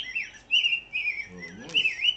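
A man whistles bird calls in short, warbling phrases that slide up and down, imitating birdsong, with a brief low murmur of his voice in the middle.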